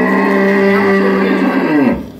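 A cow on a Dinajpur dairy farm moos once, long and loud, with a steady low drawn-out tone that bends downward and fades near the end, close by with no talk over it.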